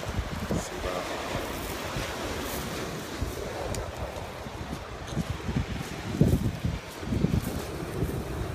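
Sea waves wash onto Positano beach in Italy, a constant surf roar with gusts of wind buffeting the microphone and a few louder surges.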